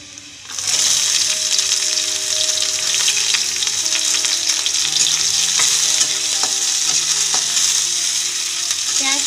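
Onions hit hot oil with browned garlic in a pan, bursting into a loud close sizzle that carries on steadily, with spatula stirs and clinks scattered through and no voices.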